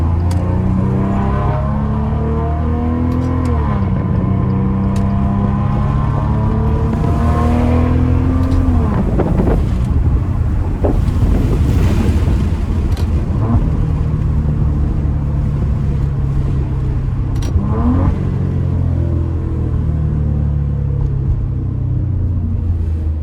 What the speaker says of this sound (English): if you put this car in sport mode and really let it rev up,